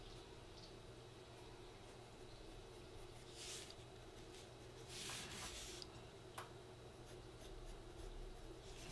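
Pencil sketches a figure on paper, a faint continuous scratching with a few louder stroke bursts, quiet and close with no voices.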